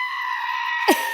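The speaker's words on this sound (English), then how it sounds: "Have you heard of a goat make that sound before?" A goat named Scout, a mother goat, lets out one sharp scream near the end, rising over a steady background hum after a long stretch without calls.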